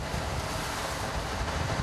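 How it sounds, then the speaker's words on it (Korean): Rough sea surf washing against a fishing boat out on open water during octopus pot fishing, a steady loud broadband roar of waves and wind with no pauses and no voices. "점점 거세지는 파도"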